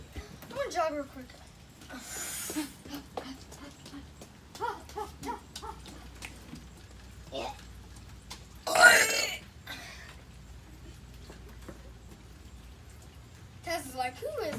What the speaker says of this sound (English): it's time to burp